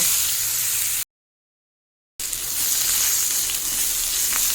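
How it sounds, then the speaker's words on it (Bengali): Raw tomato fries on high flame in a pan, a loud, close, hissing sizzle that breaks for about a second of silence and then returns with a few stirring clicks. "এখন কাঁচা টমেটো দিয়ে দিলাম, কাঁচা টমেটোটাকে হাই ফ্লেমে ভেজে নেব।"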